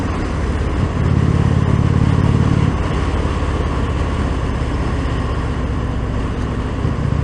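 A 2019 Indian Springfield Dark Horse motorcycle cruises at about 40 mph in fifth gear, its engine giving a loud, steady, low rumble with wind noise throughout.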